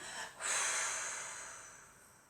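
A long, deep exhale during a guided relaxation exercise, after tensing the whole body: a brief catch of breath, then a breathy rush of air that swells and slowly fades over about two seconds, close and soft, with no talk.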